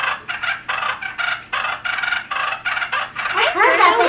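Male turkeys fighting, jumping up and flogging each other with their spurs, give a run of short raspy bursts at a steady quick rhythm, ending in a louder rolling trill.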